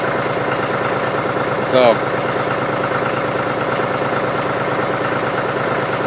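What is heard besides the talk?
John Deere 5103 tractor engine idling after cold start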